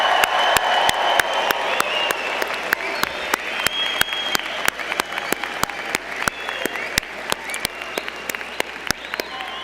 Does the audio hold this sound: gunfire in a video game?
no